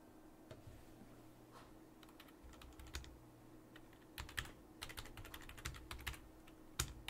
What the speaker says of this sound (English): Type in my domain there.